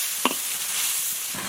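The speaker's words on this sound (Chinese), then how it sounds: "锅里倒油，下入葱姜蒜末" Scallion, ginger, garlic and three small chilies sizzle steadily in hot oil in a wok, with a brief stir or clatter early on over the constant hiss.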